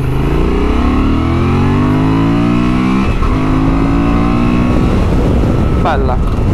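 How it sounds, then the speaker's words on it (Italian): A Honda Transalp 750 motorcycle engine revs up and down loudly and close by, its tone climbing and falling in steady sweeps, with someone speaking briefly over the engine noise. "Bella, bella, che bel motore."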